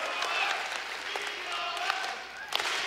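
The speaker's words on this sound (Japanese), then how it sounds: "今ミノワン Z に拍手が送られます。" Arena crowd at a RIZIN fight applauding a fighter's entrance in Aichi Prefectural Gymnasium, a steady wash of clapping from a large audience at a distance, with a commentator talking over it.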